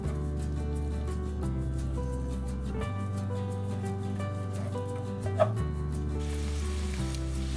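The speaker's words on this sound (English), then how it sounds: "break apart your sausage and let it start to brown" Sausage browning in a pan gives a steady, close sizzle that holds evenly throughout, with one brief clink partway through.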